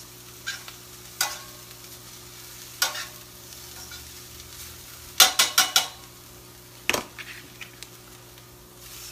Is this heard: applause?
no